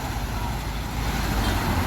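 A Scania coach pulls away from a bus stop with a deep, continuous engine rumble that builds slightly, loud and close, with road noise mixed in.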